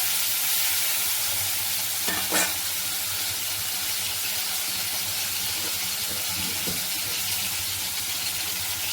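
Tomatoes sizzle in a pan of hot oil with sugar while a Bengali rui fish curry is cooked, a steady, fairly quiet frying hiss broken by a few brief stirring clinks.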